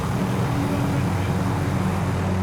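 A helicopter in the video game Call of Duty Warzone gives a steady, droning engine and rotor hum that fills the clip at a constant loud level without letting up.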